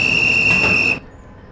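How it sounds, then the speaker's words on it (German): A conductor's whistle shrills in Train Simulator 2018 beside a BR 132 Ludmilla museum train with Donnerbüchsen coaches, one loud, steady high blast cutting off abruptly after about a second, leaving quiet rail ambience. "So, der Schaffner hat gepfiffen."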